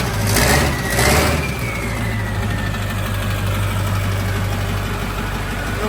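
The engine of an International school bus runs close by in a steady, gruff idle, with two short louder surges at the start.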